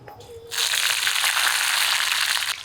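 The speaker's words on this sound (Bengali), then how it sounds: "গরম কড়াইতে তেল দিয়ে দিলাম ফোড়নে দিব কালো জিরা আর কিছু কাঁচা লঙ্কা চিড়ে নিয়েছি এগুলো দিব" Black cumin seeds and slit green chillies hit hot oil in a wok, bursting into a loud, steady broadband sizzle after a brief quiet start, holding strong for about two seconds.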